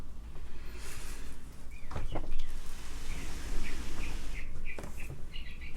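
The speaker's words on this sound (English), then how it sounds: "the birds outside are singing" Birds sing outside an open window, with faint, scattered chirps and short trills under a steady hiss of room and outdoor noise.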